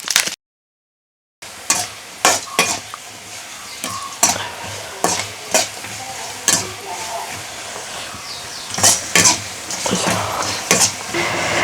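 Dried chillies, sun-dried after soaking in curd, fry in a pan with a steady sizzle and hiss, broken by repeated scraping stirs, close and loud after a brief silent gap.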